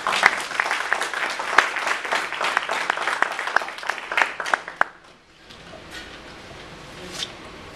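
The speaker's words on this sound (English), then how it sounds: "please give them a big applause" Audience applause for panel members at an alumni event, a dense burst of clapping that stays lively for about five seconds, then cuts off abruptly, leaving quiet room noise with a few stray claps.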